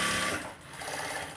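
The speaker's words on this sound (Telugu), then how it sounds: "ఇలా ఫోల్డ్ చేసి ఇలా స్టిచ్ చేయాలి" A sewing machine stitching a blouse, its rapid mechanical whir running loud and close, easing briefly before picking up again.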